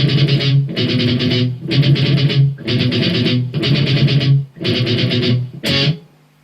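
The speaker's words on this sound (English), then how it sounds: "that's going to be where you crank up your distortion." Heavily distorted electric guitar playing chunky, chugging bursts, six loud blocks separated by short gaps, then cut off abruptly with a ringing final hit.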